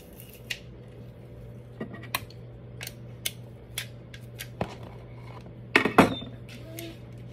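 Small garlic cloves squeezed through a metal garlic press give a series of sharp, close metallic clicks and clacks at irregular intervals, with a quick cluster of crunches and squeaks near the end.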